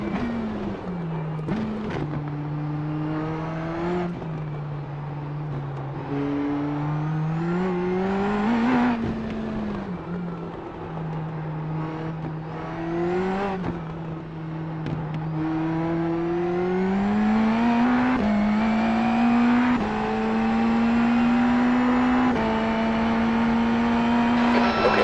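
An Indy NXT open-wheel race car engine in the iRacing simulator at St. Pete, droning loudly and up close, its pitch climbing and dropping with gear changes and revving, alone without talk.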